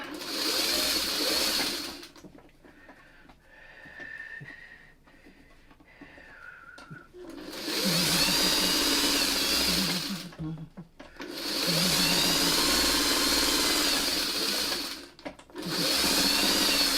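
Sewing machine stitching an uneven four-patch of quilt patches, running in three long steady bursts with short pauses between them and a softer stretch of handling in the middle.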